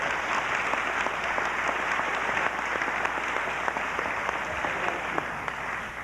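Sustained, dense audience applause at a 1991 Gladstone High School graduation ceremony in Oregon, steady and loud throughout with a crowd of many hands clapping together.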